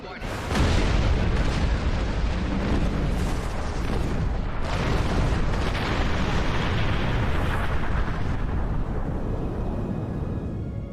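Starship torpedo fire in the space combat game Star Trek Online, a sustained rumbling barrage of booming blasts and bursts lasting throughout, loud and dense, with voices speaking over it.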